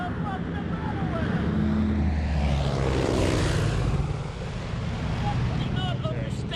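An airplane passes overhead with a broad, rushing engine roar that swells to a peak midway and then fades. Someone talks loudly over it.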